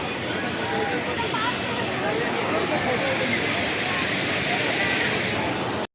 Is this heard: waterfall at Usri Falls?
yes